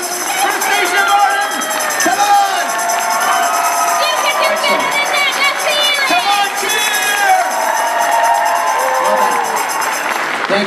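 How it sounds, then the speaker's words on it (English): A live audience at a preview event applauds and cheers, a steady loud mix of clapping, whoops and crowd noise that continues throughout without pause. "Let's have a big round of applause."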